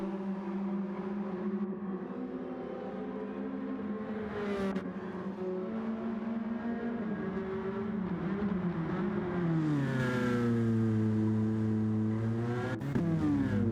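A race car in a racing video game slows into the pits, its engine whining and dropping in pitch before revving again, heard fairly close and steady without talking.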